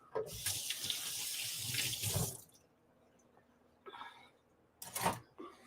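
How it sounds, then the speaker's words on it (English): Water runs steadily from a kitchen faucet into a sink as hands are washed under it, loud and close for about two seconds, then stops, followed by a few short splashes and taps. "let me wash my hands off real fast"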